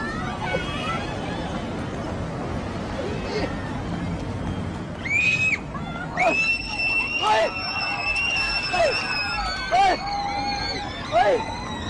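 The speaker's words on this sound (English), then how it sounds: "She becomes upset and starts to scream, and things near her begin to crash and break." A young girl screams in a street while things around her crash and break; several shrill, wavering cries rise over a constant crowd hubbub, coming in short bursts through the second half.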